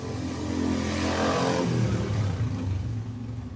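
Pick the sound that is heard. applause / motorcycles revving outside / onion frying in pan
motorcycles revving outside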